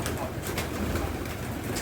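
Low, soft cooing of pigeons amid a busy background of rustling and murmuring, steady throughout with no distinct pauses.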